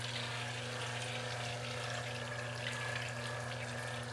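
A chamber flush system pumps water into a drain pan with a steady, even rush of flowing water and an underlying pump hum. It stays constant and fairly faint throughout, with no talk.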